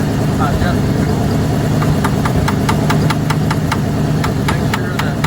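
A 1971 Ford wrecker engine runs at a steady idle during carburetor adjustment, a loud, close rumble with a string of sharp rhythmic ticking clicks over it.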